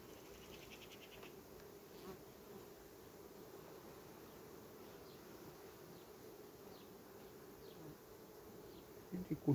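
Honeybees buzzing steadily at an open hive, a dense, continuous drone from many bees held close throughout, with a few sharper flyby whines and a brief handling clatter near the end.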